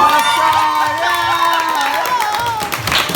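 A crowd at a Brawlhalla event cheers and shouts loudly with whoops and scattered clapping, a dense, sustained roar from many voices throughout.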